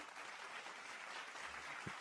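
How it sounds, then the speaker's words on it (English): Applause sound effect in a Who Wants to Be a Millionaire game, a steady hiss of clapping lasting two seconds at moderate level, with no voices. "There's the applause."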